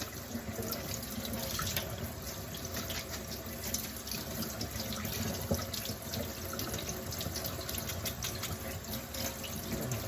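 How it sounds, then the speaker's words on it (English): Steady stream of cold running tap water splashing continuously into a sink as cooked noodles are rinsed, close and fairly loud, with no talking. "We're gonna rinse these noodles with some cold water."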